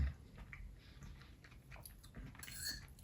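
Soft, close chewing of a bite of sweet and sour with pepper and rice, faint wet mastication sounds with a few light crunches and a utensil tick near the end.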